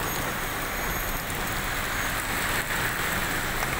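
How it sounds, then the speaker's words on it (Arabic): Heavy rain falling in Nasr City, Cairo, during a thunderstorm, a steady dense hiss of downpour on surfaces with faint road traffic mixed in underneath, continuous and fairly loud throughout. "الامطار شديدة جدا"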